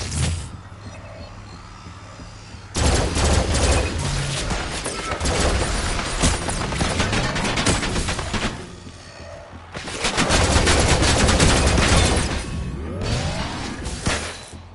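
Gunfire in the sci-fi shooter game Farpoint comes in two dense, loud stretches of rapid automatic shots mixed with whooshing blasts and booms, separated by quieter moments.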